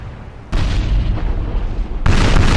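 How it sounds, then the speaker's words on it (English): Cannon broadside from a warship in a Napoleon Total War naval battle, with heavy booming volleys starting abruptly and rolling on continuously, then a second loud burst of fire near the end. "Oh, that was a big broadside from the Trinidad."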